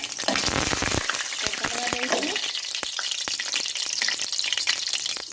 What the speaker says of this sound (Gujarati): તમે જોઈ શકો છો આપણું જીરું શેકાઈ ગયું છે